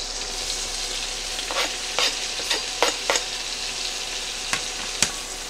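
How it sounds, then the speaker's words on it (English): Chopped onions sizzle in butter and oil in a pot, a steady frying hiss with a few brief stirring scrapes; no one speaks. "we're going to add it to our butter and oil here and start softening these up."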